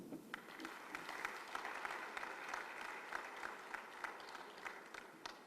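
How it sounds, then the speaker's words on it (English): Delegates at an inaugural annual session clap steadily together, a dense sustained applause filling the hall with many overlapping hand claps throughout. "we can be a little more generous with our claps"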